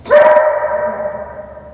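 At a dog training academy, one dog gives a single loud, close bark that trails into a drawn-out whine, with no people speaking.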